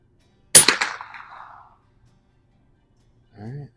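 A single sharp rifle shot from a custom 1896 Schmidt Rubin with iron sights, loud and close, its report echoing away over about a second, followed by a brief spoken word.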